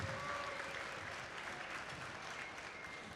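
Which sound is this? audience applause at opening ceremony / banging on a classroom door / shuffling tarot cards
audience applause at opening ceremony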